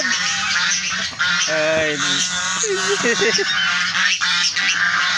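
Several geese honk loudly nearby in short nasal bursts, overlapping one another over a steady background hum, with a brief human exclamation.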